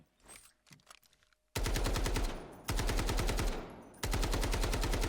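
A customized AKM rifle firing in the video game Delta Force: three long, rapid full-auto bursts of loud, close gunshots, separated by short pauses and preceded by a few quiet handling clicks.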